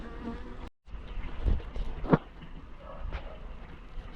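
Steady wasp buzzing close by around a honey bee hive, a low droning hum with a few louder passes and a brief dropout.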